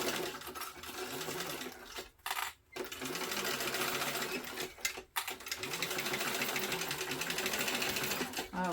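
A sewing machine stitches a straight seam on a backpack, running in a steady, close mechanical whir. It stops briefly twice and then carries on at an even pace.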